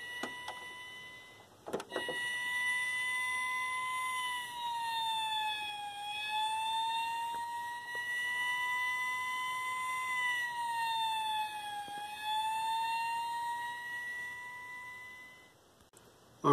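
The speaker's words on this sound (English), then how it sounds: "Oh, and that's the siren." A fire truck siren at a fire station wails continuously for about fourteen seconds, its pitch rising and falling in slow sweeps. It is loud and close, starting abruptly and cutting off near the end, with no talking.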